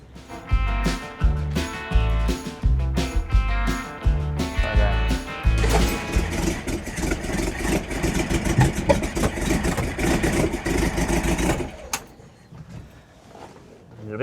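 An engine in a 60-year-old VW Bus runs close by with rough, uneven firing and punchy bursts, gradually settling into a busier steady run before it cuts out abruptly near the end. Voices talk over it.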